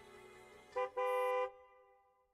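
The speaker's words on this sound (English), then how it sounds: "Sharp sound of a car horn turns through the air." A car horn blares in the Girls Frontline game, one short honk followed by a longer sustained blast, loud and close, then the sound fades into quiet.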